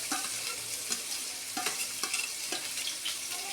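Onions and broad bean chicken curry fry in well-heated oil while a spoon stirs them toward golden, giving a steady close sizzle with several scraping strokes against the pan.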